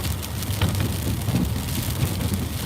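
Freezing rain falling steadily during a heavy snow storm in Upstate South Carolina at 28 degrees, a dense, even hiss of drops coating trees and surfaces, with no voices.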